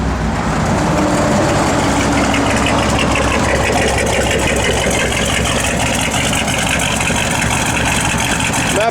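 The L78 engine of a 1965 Chevrolet Corvette idles at low revs, a loud, steady rumble close by, with occasional voices.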